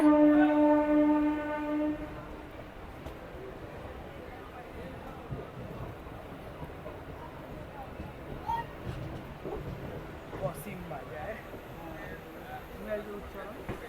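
A train horn blares for about two seconds, then the steady rumble of a train rolling into Cossimbazar station platform continues with faint background voices.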